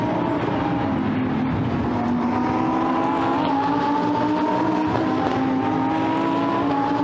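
Lamborghini Super Trofeo race cars lapping a dry Nürburgring circuit, a continuous loud engine drone with rising pitch as the cars power on, steady and unbroken throughout with no speech.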